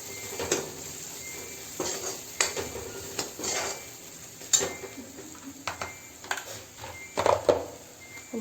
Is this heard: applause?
no